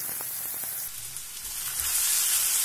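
Finely chopped onions crackle and sizzle in hot oil for chole, a steady bright hiss that swells slightly louder toward the end, heard alone without talk.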